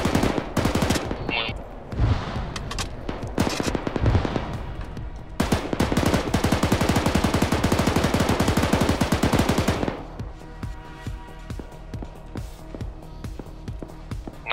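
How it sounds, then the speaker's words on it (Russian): Machine gun fire in ArmA 3 during a squad battle: scattered loud shots, then a long, steady, rapid-fire burst lasting several seconds, followed by quieter, more distant intermittent fire. "Чей пулемет?"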